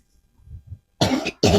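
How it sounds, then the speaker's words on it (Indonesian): Two loud, harsh coughs burst out near and close together, each following faint throat noises, from a person who shares a home with their parents. "Batuk-batuk aja."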